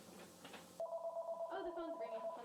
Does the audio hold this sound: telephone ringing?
yes